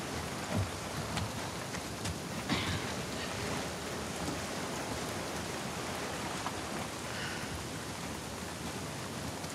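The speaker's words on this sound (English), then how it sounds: "Let's get out of the rain." Soft, steady rainfall hisses evenly throughout a scene in the video game The Last of Us Part 2, quiet and continuous with no distinct drops standing out.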